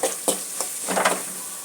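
Onion, ginger and garlic sautéing in a pan give a steady soft sizzle with a few brief stirring scrapes, close and alone with no voices.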